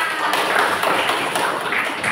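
A classroom of students claps together in a brief, steady burst of close, fairly dense clapping that continues evenly throughout.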